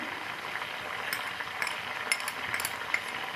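Garlic and ginger paste frying in a pan, a steady soft sizzle with occasional light clinks of a utensil stirring against the pan.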